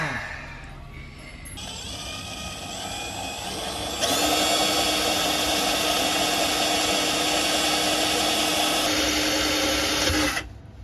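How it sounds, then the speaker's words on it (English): A power drill bores holes in the mount of a Yamaha 9.9 HP outboard engine, a loud steady whine that ramps up and holds at high speed for several seconds before stopping, with no talking. "we're gonna have to drill another 2"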